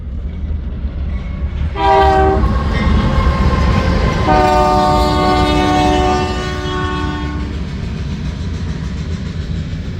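A BNSF freight heading west on the Creston subdivision mainline, the former CBQ, sounds its chord horn in two long blasts over a steady rumble of rolling wheels, loud and close.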